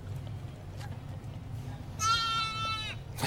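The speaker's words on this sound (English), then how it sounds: "It's like the goat" A goat gives one loud, wavering bleat near the end, set against a steady low rumble of background noise.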